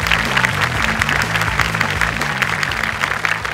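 Loud, dense audience applause filling a hall at a televised innovation awards event, continuous and steady throughout, with faint tonal background music beneath.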